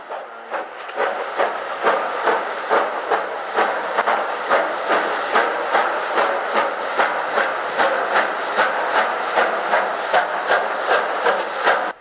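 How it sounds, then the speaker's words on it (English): Loud, rhythmic chuffing of an approaching steam locomotive in the Trainz 22 train simulator, with hissing steam, each beat evenly spaced as the engine works steadily close by. "they could hear a steam engine approaching"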